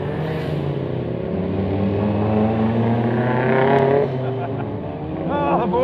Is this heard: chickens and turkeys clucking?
no